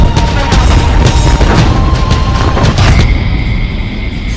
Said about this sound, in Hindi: उनके धमाके देखिए।